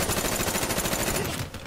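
Rapid automatic gunfire in the video game Call of Duty: Black Ops 3 rattles in a dense, continuous burst, then cuts off abruptly near the end, loud and close.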